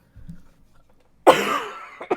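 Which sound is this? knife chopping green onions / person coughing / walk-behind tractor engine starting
person coughing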